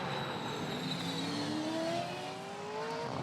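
A Supercars race car limps along the track, Tim Slade's car self-destructing, its engine a steady, moderately distant whine with a slowly rising pitch under a constant broadband roar.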